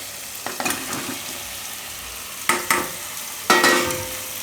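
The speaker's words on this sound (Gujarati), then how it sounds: "હવે આપણે જે બટેટા રાખ્યા છે એ બટેટા નાખી દઉં આમાં" Potatoes go into hot oil already flavoured with kasuri methi for Gujarati dum aloo, setting off several sharp sizzling bursts that hiss and fade, with stirring between them and no talk.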